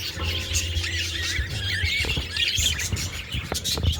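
Parakeets in a breeding box, normal green and yellow pied birds, give continuous close, shrill squeals and squawks with chattering chirps throughout.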